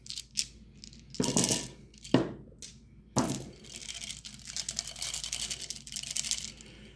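Several dice clatter and rattle across a tabletop during a tabletop wargame, in a few sharp bursts of hard clicking followed by a longer scattered tumble, close and fairly loud with no talking.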